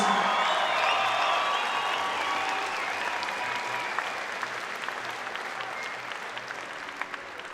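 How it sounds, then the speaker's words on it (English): A crowd at a women's fight event applauds after the final round, a broad wash of clapping with some cheering that fades gradually. "give both these ladies a huge round of applause"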